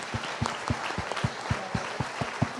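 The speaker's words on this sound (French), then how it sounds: "On peut applaudir." An audience at a town New Year's greetings ceremony in Boën-sur-Lignon applauds a local butcher-charcuterie shop receiving an award; moderately loud, even clapping with sharp individual claps audible throughout.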